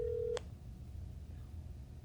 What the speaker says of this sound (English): No, I need to call from your phone.